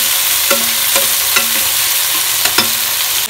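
Spice paste with a generous amount of garlic is sautéed in a pan, with a loud, constant sizzle broken by repeated scraping strokes of a spoon or spatula about every half second, close and with no talking.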